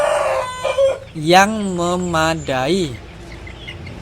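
A rooster crows loudly once in a long, wavering call, preceded by brief clucking and a short spoken phrase, with a farmyard poultry setting around it.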